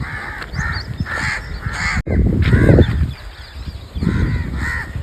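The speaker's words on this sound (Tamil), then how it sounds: "காக்கா அதிகமாக கூடி போச்சு." A large gathering of crows calling repeatedly, with overlapping harsh caws rising and falling throughout, fairly close and loud, with a brief dropout near the middle.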